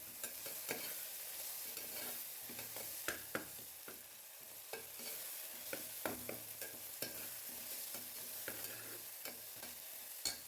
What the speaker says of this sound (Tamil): இந்த அளவுக்கு வதக்கணும்.